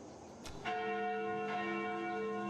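Church bells ring in the horror dating game Sucker for Love, a sharp clang followed by a sustained, shimmering toll that hangs on and swells again, loud and alone with no talk.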